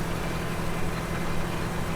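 A tractor engine pulling a large seeder in Farming Simulator 17, a steady low droning hum with a constant tone, loud and unbroken with no speech over it.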